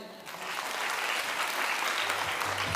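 Applause from an audience in a hall at a city Youth Day event, a dense steady roar of clapping that swells in quickly and stays loud throughout.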